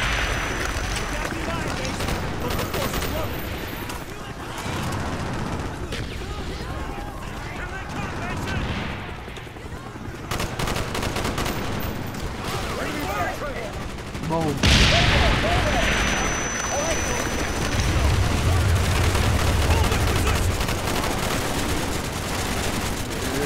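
Dense battlefield gunfire in Call of Duty: Black Ops, a Vietnam campaign mission, with continuous bursts of machine gun fire and heavy booms over a loud, chaotic din, and voices shouting under the noise.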